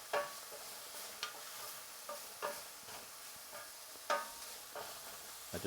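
Lamb browning in a pan with its fat rendering out, giving a faint, steady sizzle punctuated by a few sharp scrapes and knocks of stirring, with no one talking.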